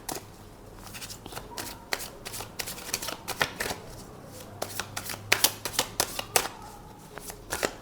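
Tarot cards being shuffled by hand, repeated crisp riffling bursts and soft slaps in an irregular rhythm, close and clear over a quiet room with a low steady hum.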